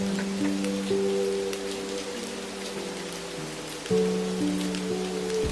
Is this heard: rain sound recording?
yes